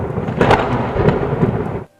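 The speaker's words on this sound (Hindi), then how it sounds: "देखते ही देखते बारिश पूरे गांव पर कहर बनकर टूट पड़ती है।" Heavy rain pours during a thunderstorm over a village, a dense roaring wash with rumbling thunder swelling through it before cutting off abruptly.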